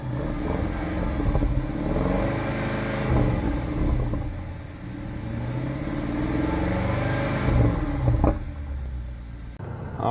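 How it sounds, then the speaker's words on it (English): Twin-turbo V8 of a 2017 BMW X5 xDrive50i revving and pulling under load, a loud continuous deep engine roar that swells and eases over several seconds, with a short sharper burst near the end. "another wonderful thing about these xDrive50i's are the sound of that twin turbo V8"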